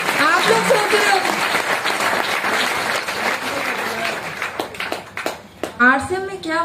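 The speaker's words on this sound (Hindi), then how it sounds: "ताली बजाओ, ताली बजाओ।" A crowd at an RCM motivational gathering breaks into applause, dense clapping for several seconds that thins into scattered claps while a voice rises over it.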